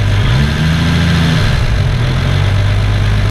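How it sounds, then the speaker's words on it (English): A car engine fitted with large race cams and no catalytic converter idles loud and close, with a rough, rattly, lumpy burble that holds steady for the whole stretch with no voices. "while the engine's running, it's actually quite rattly."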